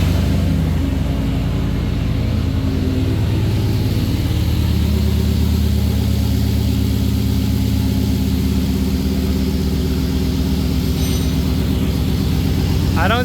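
A turbocharged truck engine runs steadily with the turbo spinning, giving a loud, continuous low rumble and whir close by that holds constant throughout, with faint voices mixed under the noise.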